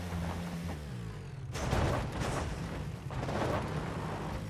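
Rapid bursts of gunfire in PlayerUnknown's Battlegrounds crackle in dense volleys, pausing briefly and then resuming, loud and continuous against a low rumble.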